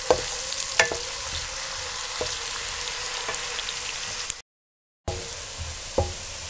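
Onions fry in a pan for aloo keema, browning to a light golden colour with a steady close sizzle and occasional stirring clinks, broken by a brief silent gap, with no talking.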